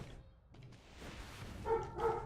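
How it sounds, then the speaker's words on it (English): Dogs barking at home, a couple of sharp barks near the end rising over a quiet room and faint background noise. "Wouldn't it have been nice to not have my dogs bark every time I'm trying to record a video?"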